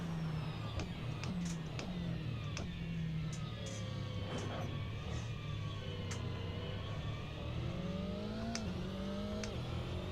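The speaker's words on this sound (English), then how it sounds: "I do have the engine noise turned down in Content Manager." Aston Martin GTE race car engine in the Assetto Corsa sim racing game, a steady low drone with rising and falling revs through gear changes, turned down in the mix and heard alone at moderate level.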